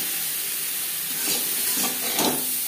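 Boiled potato pieces added to cauliflower curry cooking in a pan: a steady, dense frying hiss, with a couple of soft stirring bursts and no talking.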